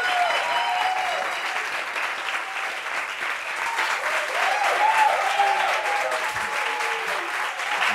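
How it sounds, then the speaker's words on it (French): Dense, sustained studio audience applause greets a guest on a French-language TV talk show, holding steady throughout with faint background voices and music tones mixed in. "Connaît Mia, applaudissements pour elle."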